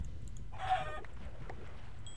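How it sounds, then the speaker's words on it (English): A chicken in the Minecraft video game gives a short burst of clucking, a single brief call over a steady low hum of game background noise. "Come here, chicken."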